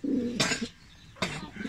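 Pigeons coo softly nearby, low throaty calls broken by two brief bursts of rustling or fluttering.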